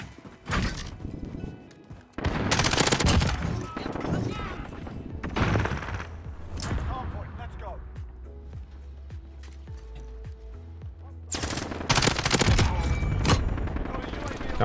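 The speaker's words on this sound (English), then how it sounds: "Got my teammates shooting at me." Bursts of gunfire from teammates in a shooter video game, loud rapid volleys separated by quieter stretches with scattered thuds.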